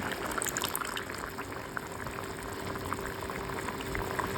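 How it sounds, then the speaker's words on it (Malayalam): Fish curry with thick coconut milk and ripe mango bubbling in a pot, a continuous close simmer of small pops and gurgles at a steady moderate level, with no talking. "ചെറുതായിട്ടൊന്ന് തിളച്ചാൽ മതി"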